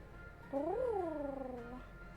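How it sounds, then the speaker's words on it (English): A cat gives a single drawn-out meow, rising then slowly falling, fairly close and clear against a quiet room. "I just got distracted by Cat."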